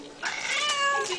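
A single drawn-out cat meow, close and clear, rising and then tailing off in about a second.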